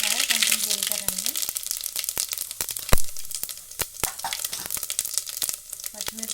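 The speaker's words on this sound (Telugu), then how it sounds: "ఆయిల్ వేడెక్కిపోయిందండి. ఇంకా ఆవాలు వేసుకుంటున్నాను, అలాగే కొంచెం జీలకర్రండి" Mustard seeds and cumin frying in hot oil, a bright steady sizzle with scattered sharp pops and crackles, close and fairly loud, while a voice talks over it.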